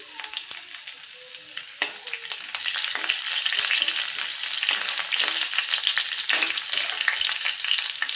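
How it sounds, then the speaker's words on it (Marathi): Finely chopped garlic sizzles in hot oil for a dal palak tadka, a dense crackling fry that jumps louder partway through, with occasional sharp utensil clicks and scrapes. "बारीक चिरलेला लसूण घालायचा आहे लसूण पण छान आपल्याला परतून घ्यायचं आहे सोनेरी रंगावरती"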